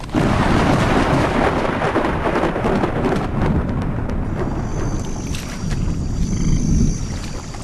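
Deep, rumbling thunder rolls on loudly and continuously, with crackling texture and a heavy low roar throughout.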